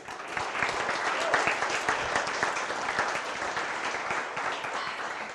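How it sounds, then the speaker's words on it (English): An audience applauds steadily, a dense crackle of clapping hands sustained for several seconds without pause. "Big round of applause real quick for them."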